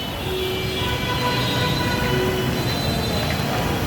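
Steady rumble of a metro rail train at a terminal, a continuous broadband roar with thin high tonal whines running through it.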